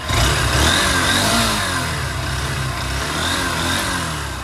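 A Honda 160cc motorcycle engine idles smoothly and steadily, loud and close, with a slight rise in revs near the start.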